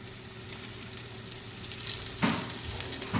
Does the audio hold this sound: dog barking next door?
no